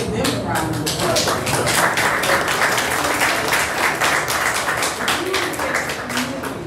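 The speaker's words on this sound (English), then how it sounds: "let's just give them a round of applause." An audience breaks into a round of applause, a dense, loud and steady wash of many hands clapping that carries on throughout, with faint voices mixed underneath.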